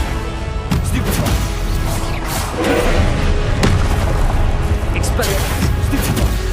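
Spell blasts and impacts in Hogwarts Legacy combat, including the explosive Confringo, land as heavy repeated booms and crashes in a dense, loud barrage, with a voice shouting over the action.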